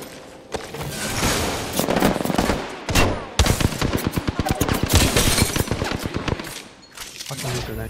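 Apex Legends firefight with loud bursts of automatic gunfire, dense rapid volleys with short breaks between them, and game character voices calling out over the shooting.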